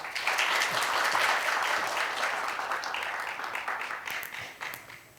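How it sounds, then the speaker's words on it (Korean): An audience at a forum on military service applauds a congratulatory speaker, with dense clapping swelling early and then gradually thinning out over several seconds. "네, 큰 박수 부탁드립니다."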